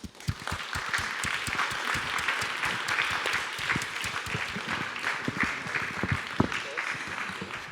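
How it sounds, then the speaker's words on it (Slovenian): Audience applause at a comics book talk, a sustained round of many hands clapping with distinct individual claps standing out, steady and fairly close, with some voices mixed in. "Še enkrat aplavz"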